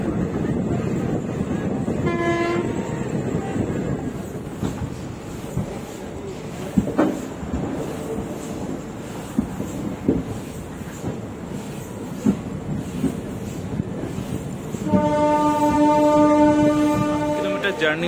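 A special train bound for Puri rumbles along steadily with clattering wheels, its horn blaring twice, once briefly early on and again in a longer, louder blast near the end.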